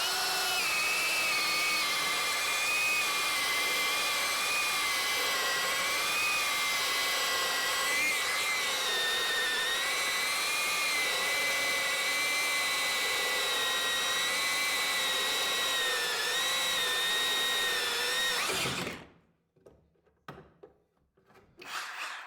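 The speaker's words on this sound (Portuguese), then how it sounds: "Vamos fazer mais um furo." A cheap GENAI 21V cordless hammer drill bores a hole in a steady, loud whining hammer drone that runs unbroken for about nineteen seconds, then cuts off sharply, leaving faint clatter behind.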